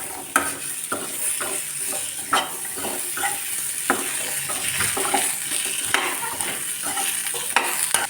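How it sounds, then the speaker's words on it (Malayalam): Chopped pumpkin pieces sauté in a pan with onion, a spoon scraping and stirring in irregular knocks over a steady close sizzle. "ഇനി ഇതിലേക്ക് നുറുക്കി വെച്ച മത്തങ്ങ ചേർത്ത് കൊടുക്കാം. ഇത് ചെറുതായിട്ടൊന്നിങ്ങനെ വഴറ്റിയെടുക്കാം."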